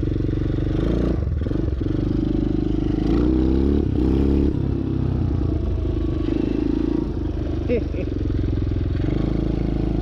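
A motorbike engine sputters and labours unevenly, losing power in a small off-road-style machine, loud and close with people talking over it.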